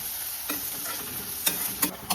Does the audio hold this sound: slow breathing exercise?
no